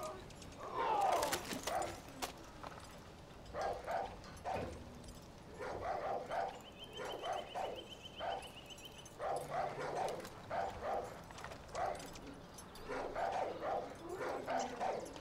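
Dog barking in the video game Far Cry New Dawn, a run of repeated yips and barks in short bursts across the stretch, with a brief electronic tone partway through.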